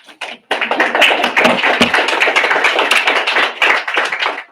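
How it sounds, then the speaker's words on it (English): A university audience claps for student presentations, loud, dense and close, breaking out after a brief pause and continuing steadily to the end. "big round of applause to our students for their presentations."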